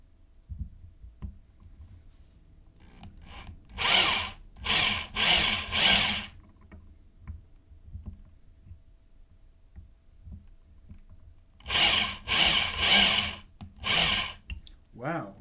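A power drill bores into a workpiece for a hex nut die in a workshop, in two bursts of about three seconds each, each made of several loud whirring pulses separated by short pauses, with quiet room noise between bursts.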